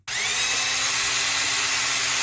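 A power drill whines at full speed, boring a hole to mount a six-row wheel light near a car's brake caliper; a close, loud, steady drone that starts abruptly and runs without pause.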